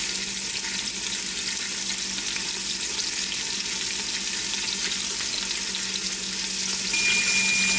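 Pork chops searing in a hot pan in a home kitchen, a steady dense sizzle that holds even and loud throughout with no voices.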